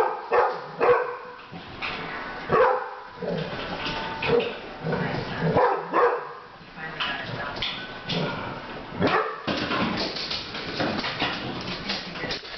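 Several dogs bark repeatedly in sharp, excited bursts, with yips and whimpers mixed in, close by, while a person talks over them.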